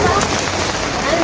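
Steady rain falling outdoors in a village, a dense, even hiss of drops striking surfaces that stays loud and constant throughout, with no voices clearly heard.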